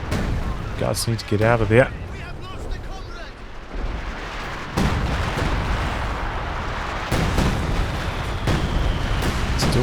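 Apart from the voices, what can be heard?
sector artillery barrage from the video game Company of Heroes 2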